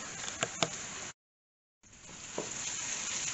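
Onions frying in a pan with curry powder, turmeric and garam masala, a steady close sizzle with a couple of sharp stirring clicks near the start, a brief gap, then the sizzle resuming and swelling.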